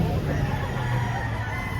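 Roosters at a chicken market in Lipa, Batangas, heard amid a steady hum of crowd chatter and background noise, with a faint crow or clucking under the babble.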